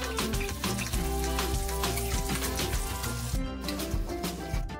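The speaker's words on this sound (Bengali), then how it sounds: "এবার আমি দিয়ে দিচ্ছি বাটা মশলাটা, যেটা আমি আগে বেটে নিয়েছিলাম।" Ground spice paste hits hot oil in a pan for a vegetarian ridge gourd and gram flour dish, giving a continuous, fairly loud sizzle and crackle under steady background music.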